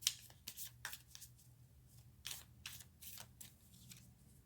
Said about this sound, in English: let's take a card for the Three of Swords